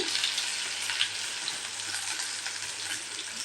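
Steady, close-up sizzling of onions frying in hot oil, a dense crackling hiss with small pops and no voices.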